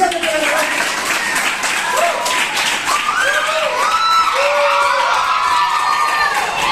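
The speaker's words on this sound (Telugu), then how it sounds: "చప్పట్లు" Audience applause and cheering with children's shouts at a Sunday school camp, a steady loud crowd roar filling the whole stretch with whoops rising over it.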